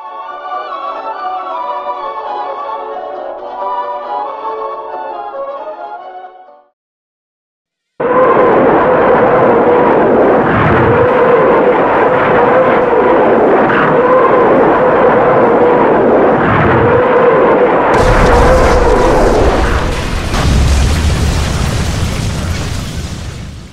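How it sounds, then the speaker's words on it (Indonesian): A Soviet BM-13 Katyusha rocket launcher fires a salvo as a loud, sustained roaring rush that swells and intensifies. It is preceded by a tonal, harmonic passage and a brief silence. "Inilah peluncur roket legendaris Uni Soviet. Musik merdu persembahan Stalin untuk Hitler. BM-13 Katyusha."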